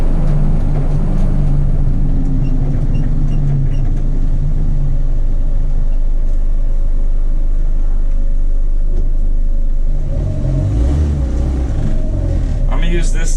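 Car engine rumbling steadily up close as the driver downshifts without using the clutch, with a brief rise in engine tone near the end and a voice talking over it.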